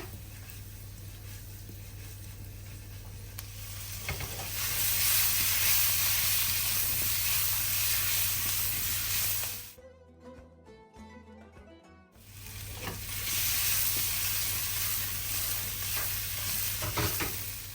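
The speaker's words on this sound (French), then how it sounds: "Vous les faites sauter de cette manière jusqu'à obtenir de belles pommes de terre bien dorées" Potatoes sizzling and tossed in a hot sauté pan until golden, a loud steady frying hiss with stirring scrapes that drops away briefly mid-way, then resumes close and strong.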